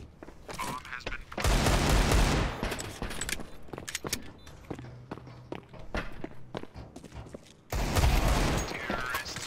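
Counter-Strike 2 gunfire erupts in two loud, dense bursts of rapid shots, separated by quick footsteps, clicks and scattered clatter of in-game movement.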